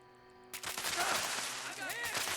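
Gunfire from an Executioner's explosive handmade rifle in the video game Fallout 76 erupts after a half-second of quiet game tones, a dense, loud volley of rapid blasts and explosions running to the end.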